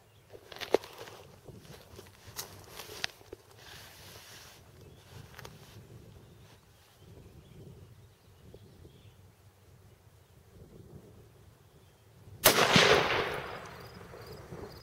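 A long-range rifle shot is fired at a groundhog outdoors at dusk. A single sharp, loud report comes near the end, after a long quiet stretch of faint rural ambience with insect buzz.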